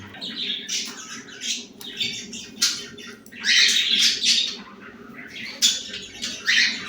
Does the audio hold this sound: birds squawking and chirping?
yes